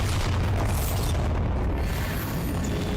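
Bombarda spell explosion in Hogwarts Legacy erupts as a heavy, continuous rumbling boom with dense low-end roar, loud and close throughout.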